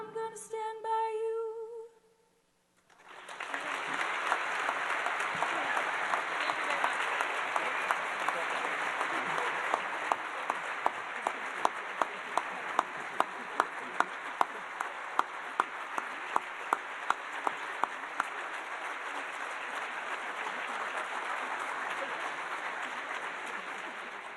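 A crowd applauds after an a cappella group's performance, with a brief stretch of singing first, then sustained, dense clapping with some sharper individual claps standing out, going on for about twenty seconds.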